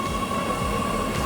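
A train rumbles through an underground station beneath Oslo's central station, giving a steady, loud, enclosed drone with a sustained tonal whine and no pauses or voices.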